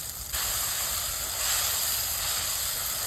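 Mustard seeds, onion and other ingredients hit hot oil in a pan and set off a loud, continuous hissing sizzle that jumps in abruptly near the start and holds steady, close and without talk.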